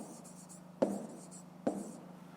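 A pen scratches out a number on paper while working a fifth-grade maths exercise, two short close strokes against a quiet room tone, with no talking.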